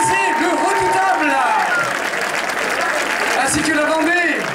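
A festival audience at an outdoor mill fête applauds performers and chorus, dense clapping and cheering swelling throughout, while an announcer speaks over it on a loudspeaker.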